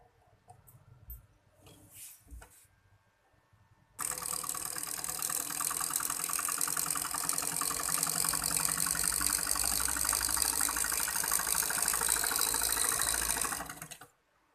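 A sewing machine stitches with multicolour Anchor thread, a steady close mechanical whir and rapid needle clatter running continuously for about ten seconds after a few quiet handling knocks.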